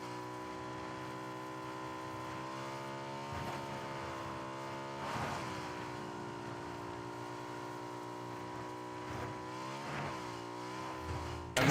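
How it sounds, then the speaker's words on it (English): A car engine drones steadily behind the players in a ranked first-person battle royale game, rising and falling in pitch as it revs and shifts, with no one speaking. "Car behind us."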